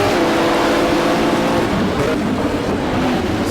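A race car engine roars steadily and loudly throughout a racing video game lap at the 1980s-era SUGO circuit, holding a high droning pitch with slight shifts as the car accelerates, with no pauses.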